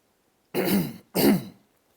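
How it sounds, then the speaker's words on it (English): Two harsh coughs close to the microphone, spaced about half a second apart, with silence before and after. "sorry for the coughing"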